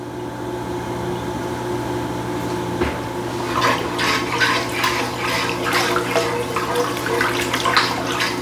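Four cups of liquid pour into a pan while smothered pork chops are being made, a soft rushing, splashing stream that starts partway in and keeps going steadily over a low background hum.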